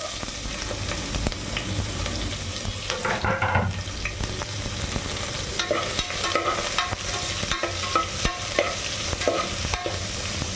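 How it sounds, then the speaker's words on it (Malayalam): Chopped onion is stirred and sautéed in a pan for vegetable rice, a steady sizzle and frying crackle with repeated scraping stirs and clinks throughout, close and fairly quiet. "ഉള്ളി നന്നായിട്ട് ഇളക്കി യോജിപ്പിച്ച് കൊടുക്കണം."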